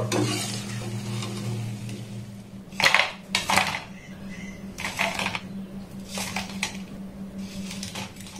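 Fried flaky, layered maida-flour snacks are lifted from a frying pan: hot oil keeps a steady sizzle and hum while a utensil scrapes and clinks against the pan in several short, close bursts.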